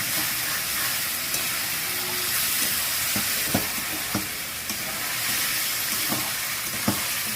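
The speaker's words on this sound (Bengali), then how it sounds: "এবার আমি এখানে লাউটা ঢেলে দিলাম।" Chopped bottle gourd stirred in hot oil in a pan, giving a steady close sizzle and hiss with occasional soft knocks of the spoon against the pan, and no talking.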